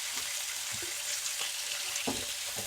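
Semiya (vermicelli) frying in oil, a steady close hiss of sizzling with a few soft knocks from stirring, and no talking.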